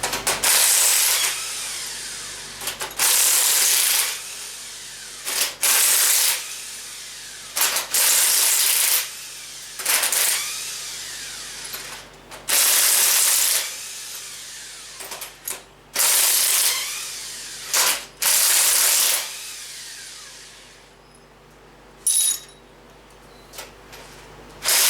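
Ratchet wrench clicking in repeated bursts while loosening cylinder head bolts on a Chevy 283 V8 engine, close and loud, with brief pauses between strokes and no talking.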